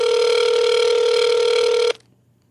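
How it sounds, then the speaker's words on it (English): A steady electronic telephone tone sounds loudly for about two seconds, then cuts off abruptly into near silence. "And it's ringing."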